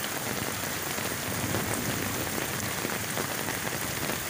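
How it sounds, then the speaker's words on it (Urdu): Heavy rain pours steadily during a downpour that also brought hail, with the Nala Lai stream in flood at Gujar Khan. The dense, even hiss of drops on surfaces fills every moment, loud and unbroken, with no voices. "تو اب بھی بارش اسی طرح جاری ہے"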